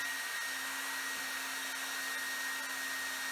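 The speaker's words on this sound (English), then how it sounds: "we're now going to use a hair dryer, and I'm gonna put it on high" A hair dryer set on high blows steadily onto crayon, a constant, close whooshing roar with a faint whine and no voices.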